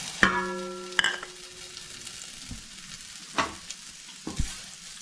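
Butter melting and sizzling in a heavy-bottomed pan while making butter chicken: a soft, steady fry hiss with a few sharp clinks and scrapes of a utensil against the pan, no talking.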